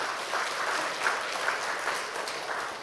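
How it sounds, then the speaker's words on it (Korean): A church congregation gives a brief round of applause, a moderately loud, even patter of many hands clapping with no talk over it. "박수 한번 쳐주세요"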